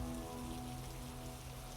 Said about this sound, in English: The forest is alive with sound, the steady drip of rain from leaves